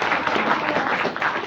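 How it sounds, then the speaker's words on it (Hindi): Dense crowd applause for a state general secretary at a gathering, a steady wash of many hands clapping at once with no individual claps standing out. "तो अपने राज्य महासचिव के लिए एक बार जोरदार ताली"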